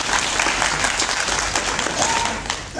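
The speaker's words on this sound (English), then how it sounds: "a huge round of applause to Mr. Joshi" An audience at an opening ceremony breaks into steady, dense applause, loud and continuous throughout, with a faint voice briefly audible beneath the clapping.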